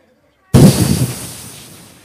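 A single loud rifle shot fired at a target on a range, a sharp close blast after half a second of silence with a long rumbling decay.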